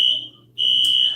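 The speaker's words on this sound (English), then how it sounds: "It's the alarm." A household smoke detector set off by steam from a hot shower sounds a piercing high electronic tone, loud and steady, with a short drop in the middle and then a sustained return.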